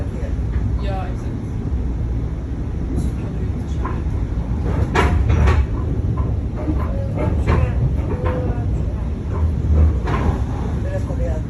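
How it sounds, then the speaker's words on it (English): A subway train rolls into a station, its rumble, clatter and squeals rising and falling over roughly eleven seconds amid station noise, with people talking nearby throughout. "Here comes the train."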